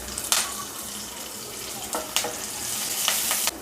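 Garlic, green chili and curry leaves sautéing in hot oil for chicken 65, a close, steady sizzle broken by a few sharp spatula scrapes and clinks, with no voices.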